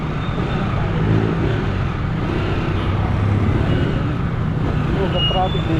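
Steady road traffic rumble from cars and buses near a flooded public market in Pampanga, a continuous low drone throughout with a person talking over it.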